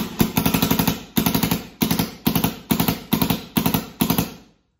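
Empire Mini GS paintball marker firing in semi-automatic mode, seven quick bursts of rapid popping shots, each burst trailing off before the next trigger tap, loud and close.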